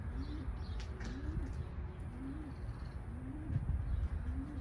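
Pigeons or doves coo in a steady repeating rhythm, about five low calls spaced roughly a second apart, over an outdoor background with faint chirps and occasional wing flaps.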